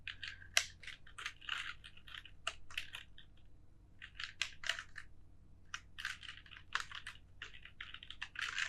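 Rapid, close keyboard typing while filling in cells of an Excel spreadsheet, with quick clustered bursts of clicks and brief pauses between them and no talking.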